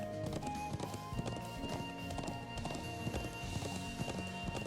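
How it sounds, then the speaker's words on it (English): Horse hooves clip-clop in the video game The Legend of Heroes: Trails of Cold Steel, a steady rhythmic trot of quick clopping beats over game music and ambience, moderately faint throughout. "Horse doesn't like that."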